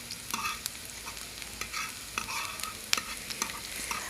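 Onions frying in a little oil in a large pan for chips masala, a constant bright sizzle with frequent clicking stirs and scrapes of a spoon, no voices.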